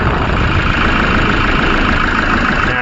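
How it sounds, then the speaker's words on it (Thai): A 2017 Toyota Commuter diesel van engine idles just after starting. The close, loud, steady rumble stays even and unbroken throughout, with no talking. "สตาร์ทแล้วก็เครื่องเดินเบาแบบนี้นะครับสันธ์ดีเซล เป็นอย่างไร เดินนิ่งไหม สั่น สะดุด"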